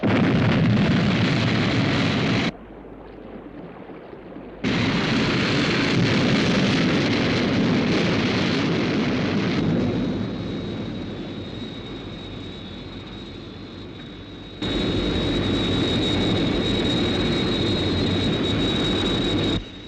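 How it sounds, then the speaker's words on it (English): Rocket liftoff sound effect from the TV series UFO: a loud, sustained roaring blast that drops away briefly, then resumes, with a steady high whine running through the later part. "Liftoff -5, 4, 3, 2, 1, 0."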